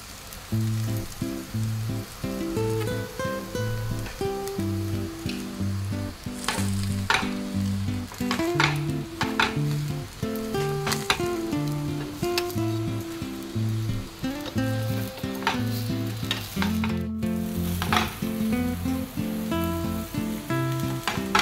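Paratha frying in ghee in a hot pan, giving a steady, close sizzle with soft crackles and occasional scraping or stirring sounds throughout, no voices.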